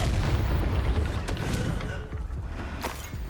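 A Confringo fire spell explodes in Hogwarts Legacy, a loud rumbling boom that rolls on with crackling debris and a few sharp cracks as it fades.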